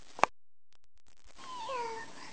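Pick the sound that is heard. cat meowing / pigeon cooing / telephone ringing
cat meowing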